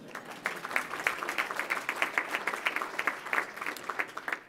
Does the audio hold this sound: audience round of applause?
yes